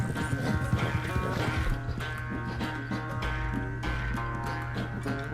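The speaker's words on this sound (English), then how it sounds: "O cavalo vai cansado, gente." A horse in Red Dead Redemption 2 gallops with a rapid rhythmic clatter of hooves over a steady low game drone and musical tones, moderately close and continuous throughout.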